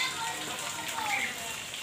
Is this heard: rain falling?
yes